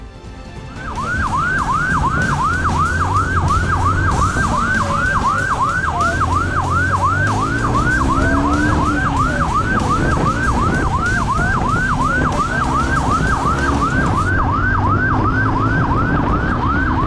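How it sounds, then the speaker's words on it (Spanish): Emergency vehicle sirens wail loudly and continuously through the street during a police chase, a steady rising-and-falling cycle that repeats without a break over low traffic rumble. "El sonido de las sirenas retumba con fuerza en las calles."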